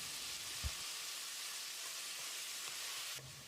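Chopped tomatoes frying with a teaspoon of salt for a mushroom curry give a steady, close sizzle throughout, with one brief clink or stir near the start and a small bump in level near the end.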